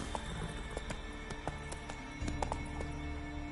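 Roach, Geralt's horse in The Witcher 3 on PS5, gallops with rapid rhythmic hoofbeats clopping steadily and close, layered over game music.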